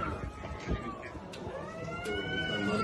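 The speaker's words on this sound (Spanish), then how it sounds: "Mira esa gata." A cat meows in drawn-out, wavering cries under background noise, with a person briefly talking nearby.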